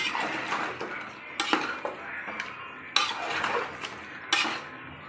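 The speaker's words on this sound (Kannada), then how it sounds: "ಹಾಕಿ ಚೆನ್ನಾಗಿ ತಿರ್ಸ್ಬಿಡೋಣ" A metal spoon stirs pepper chicken in a pan after pepper powder goes in, giving scraping clinks and knocks against the pan, irregular and close, with a few sharper metallic taps and no talking.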